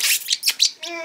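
A pet bird vocalizes up close in a home, a quick series of bright chirps and squawks ending in a clear whistled note.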